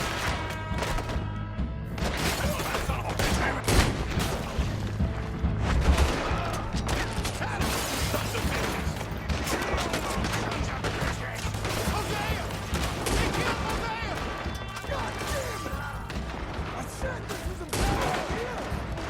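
Sustained gunfire from a Red Dead Redemption 2 shootout, with dense overlapping shots and crashing impacts running throughout under shouted speech and tense game music.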